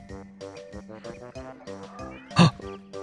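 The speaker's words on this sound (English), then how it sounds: "I heard the cat again." A cat in the video game Destiny 2 lets out one brief, loud meow near the end, cutting through rhythmic electronic game music that plays throughout.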